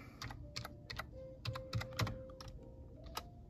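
Keys clatter on a computer keyboard as a short note is typed into a timekeeping program, quick irregular taps close by with a faint steady hum underneath and no talking.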